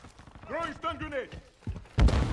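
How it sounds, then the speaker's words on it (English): A stun grenade in Call of Duty: Modern Warfare II goes off with a sudden loud, harsh bang near the end, right after a stretch of voiced talk. "Throwing stun grenade!"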